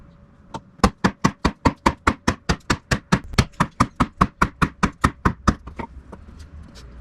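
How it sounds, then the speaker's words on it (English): A knife is driven across a piece of wood by repeated baton strikes while cross batoning during a bushcraft test of the Work Tuff Nomad field knife. About twenty sharp, loud, evenly spaced knocks come in a steady rapid rhythm, close up, with no talking. "Let's try some cross batoning."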